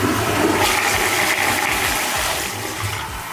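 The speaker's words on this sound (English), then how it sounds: "Finally, test the flush. Press the flush button on the remote once to ensure the cycle completes properly." A HOROW X70 smart toilet flushing after a remote-triggered cycle, a loud close rush and gurgle of water that runs throughout and slowly fades toward the end.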